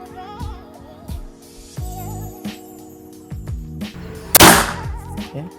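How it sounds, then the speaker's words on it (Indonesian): A single sharp crack from a Hercules PCP air rifle, the first test shot, stands out loud and close amid quieter background tones and clicks. "Tembakan pertama."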